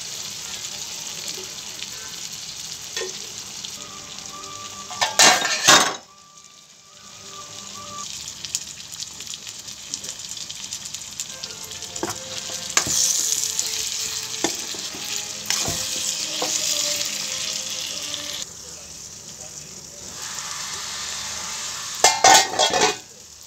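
Chopped tomatoes sizzle and fry in a pan for chicken curry, stirred with sharp scraping and clanking of a spoon, a steady loud sizzle throughout with brief clattering bursts.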